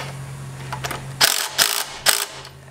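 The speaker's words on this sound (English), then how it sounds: "tighten down that bolt" Ratcheting bursts from a wrench tightening the bolt on an exhaust clamp of a drag-racing wagon, three short close clicking runs after a steady low hum cuts out.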